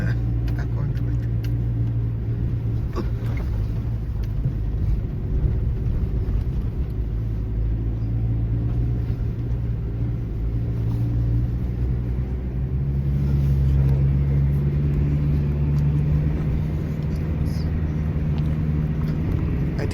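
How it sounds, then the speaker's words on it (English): A vehicle ploughs through thick desert sand near the Sossusvlei dunes in Namibia, its engine a loud, steady low drone that swells slightly midway and continues without a break. "driving in this thick sand"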